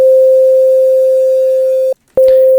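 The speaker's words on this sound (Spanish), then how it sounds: "Pero añadió un ruido, que es una especie de ruido blanco." A loud, steady pure sine tone with a faint hiss of added white dither noise beneath it, cutting out briefly near the end before resuming with a click.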